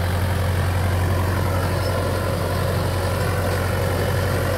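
A 55 hp, four-cylinder tractor drives an 8 ft Shaktiman rotavator through soil, giving a loud, steady engine drone with a constant churning rumble and no talk.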